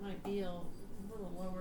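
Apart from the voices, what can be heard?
No everyday noises stand out.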